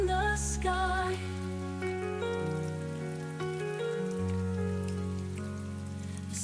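Steady rain falls on a surface at night, a constant soft hiss running beneath sustained, gentle melodic tones throughout.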